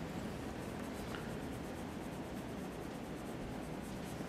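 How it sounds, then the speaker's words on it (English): Rubber eraser scrubbing away part of a pencil perspective drawing on paper, a steady close, continuous rubbing texture that runs without pause for several seconds. "I'm just going to erase that part away"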